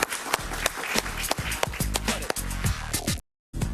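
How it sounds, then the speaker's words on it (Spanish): A television studio audience applauds guest Horacio Medina on a political talk show, a burst of close, crisp clapping with sharp individual hits over a low music bed, cutting briefly to silence near the end. "Un aplauso para él,"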